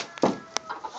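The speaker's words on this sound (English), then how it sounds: "There's the little white hens, and the little black hens are over on this side." Small full-grown farm hens, white and black ones about two to three times the size of a quail, give a few short, close clucks in a quiet yard.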